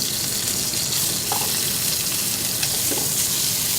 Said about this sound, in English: But once we get a good sear on there